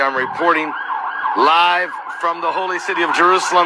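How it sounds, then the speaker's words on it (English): Emergency vehicle sirens wail at night in Jerusalem, rising and falling steadily beneath someone speaking throughout. "You can hear the sirens in the background."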